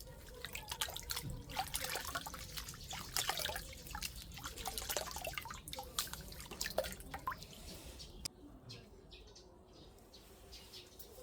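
Water drips and trickles while plant roots are washed, giving a quiet run of close, irregular drips and splashes, with faint bird chirps in the background.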